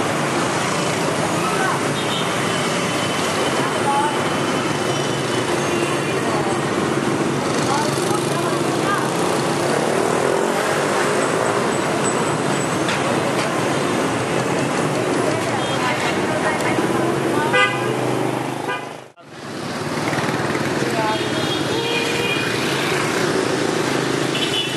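Busy Vietnamese street traffic with mopeds streams past continuously, a dense roar of engines and crowd murmur that dips briefly for a moment before resuming; no clear honks stand out.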